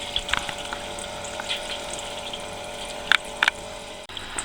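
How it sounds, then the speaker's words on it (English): Beer wort trickles gently over a grain bed into a boil kettle during hazy DIPA brewing, a steady soft flow under a constant pump-like hum, with a few faint clinks. "nice slow trickle going over the top of the wort bed, the grain bed"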